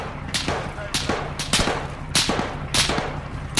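Gunfire in Arma 3 during an Antistasi Global Mobilisation firefight, with a rapid series of sharp, loud shots in uneven bursts of about six or seven cracks and someone talking in between.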